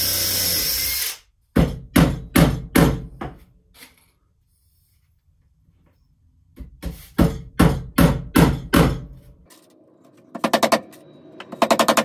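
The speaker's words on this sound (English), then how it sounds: "monel ring nails, which I could hammer straight through into the celery top deck beams" Close, sharp hammer blows driving monel ring nails into celery top pine deck beams on a carvel-planked boat, in two rapid runs of strikes separated by quiet, with a brief whirring tool sound at the start and end.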